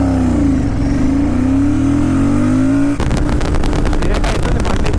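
Royal Enfield Super Meteor 650 motorcycle run flat out at top speed in fifth gear, a loud, close engine drone with a rising pitch, then a sudden switch to rough, buffeting wind-blasted roar.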